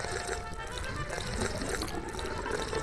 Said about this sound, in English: Each cat took a sip of water,